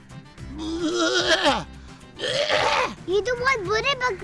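A man imitates a goat with drawn-out, quavering bleats, three loud vocal bursts with wavering pitch separated by short pauses, close and alone.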